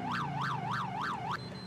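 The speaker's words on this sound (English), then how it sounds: "And that is a really loud and annoying siren." A loud, close police siren from a convoy in GTA 5, wailing in about four rapid rising-and-falling sweeps before cutting off abruptly, over a low engine rumble.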